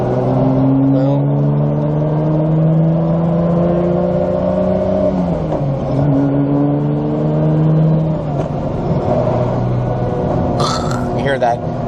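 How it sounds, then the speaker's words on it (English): Toyota Supra engine heard from inside the car while driving, with the clutch jangling between about 2300 and 2700 RPM; a loud, steady drone that rises and dips, briefly dropping mid-way before climbing again. "the clutch makes a jangling noise every time"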